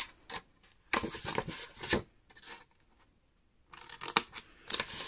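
Scissors cut straight along a strip of paper in several short, crisp snips, close and fairly quiet, with brief pauses between cuts.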